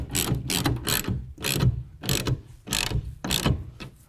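A ratchet wrench with a 9/16 socket tightens a clamp bolt on a tonneau cover fitted to a 2019 Chevy Silverado 1500, giving six or seven short bursts of rapid clicking close by, with brief pauses between strokes.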